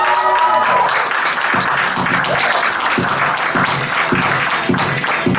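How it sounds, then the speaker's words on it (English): Round of applause from a studio audience for a guest on a youth show, dense sustained clapping close and loud throughout. "let's give one more Club F.U.C.I round of applause for Brian and for Kids for Climate Action"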